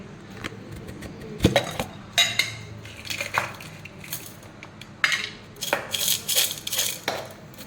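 Clinks and scrapes of a spoon against a pan as cream and sugar are stirred for malai peda, irregular metallic taps and knocks at close range with no talking.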